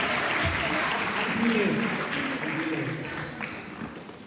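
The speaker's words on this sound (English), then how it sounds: "give him a round of applause" An audience gives a round of applause at a talk, dense continuous clapping that fades slightly toward the end, with voices mixed in.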